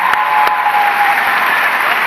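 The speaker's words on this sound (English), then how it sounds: "So I want to give him a big round of applause." Steady audience applause at a live political event, a dense wash of clapping from a crowd that carries on evenly without speech over it.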